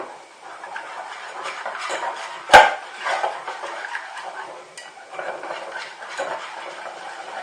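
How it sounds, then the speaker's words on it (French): A spoon works milk into lasagne sauce in a pan, with soft scraping and stirring, light metallic rattles and one sharp clink near the middle. "on rajoute un petit peu de lait tout en mélangeant bien"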